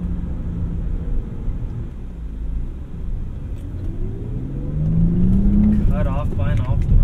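A 2008 BMW 328i engine and intake heard from inside the cabin while driving, a steady low rumble that rises in pitch as the car accelerates, with a faint squeak or whine near the end.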